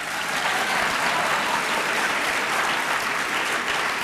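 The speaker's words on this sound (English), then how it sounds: "you are applauding" A large audience claps continuously, a dense, even roar of applause that holds steady throughout.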